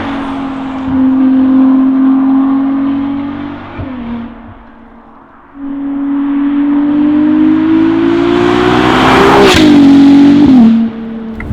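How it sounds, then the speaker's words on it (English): A Novitec-tuned Ferrari 296 GTS V6 revs loud and close, holding a steady drone, dipping briefly, then climbing again to a sharp peak before easing off. "isn't that just what a Ferrari should sound like?"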